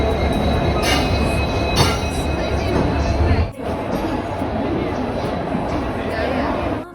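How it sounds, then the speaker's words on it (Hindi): A train rolls along a platform at Old Delhi railway station, with loud, continuous rumble and rail noise and brief wheel squeals, broken by a short lull partway through, while voices are heard faintly in the background. "पुरानी दिल्ली रेलवे स्टेशन।"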